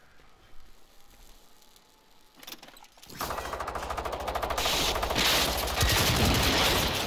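Rapid automatic gunfire in the video game Generation Zero, starting after a few quiet seconds with a couple of shots, then a loud, sustained stream of fast bursts.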